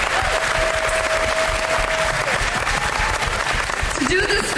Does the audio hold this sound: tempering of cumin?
no